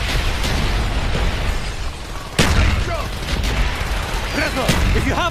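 Mortar rounds landing in a Call of Duty Black Ops Project Nova battle, loud booming impacts mixed with gunfire and debris. Soldiers shout over the din throughout.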